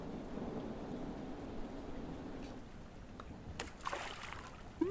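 Rain hisses steadily on a stormy cliff in the video game A Short Hike, with a low rumble of thunder underneath and a few sharper cracks toward the end.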